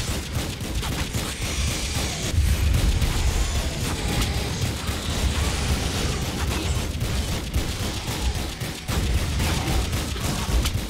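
Rapid gunfire and explosive booms while shooting enemies in the action game Lara Croft and the Guardian of Light, a dense, loud, continuous barrage of cracks and blasts with no clear pauses.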